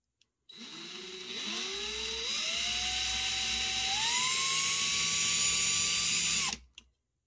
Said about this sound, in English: I opened up the holes in these rivets quite substantially with that smaller bit